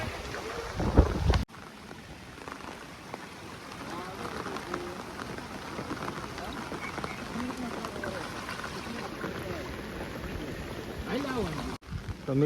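Strong wind buffets the microphone beside the flooded Venu river, a gusty rushing roar that comes and goes under people talking nearby.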